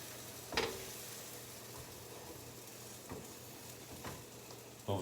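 French toast slices sizzle steadily in a hot pan, a constant frying hiss broken by a few sharp clicks and scrapes of a spatula moving the bread.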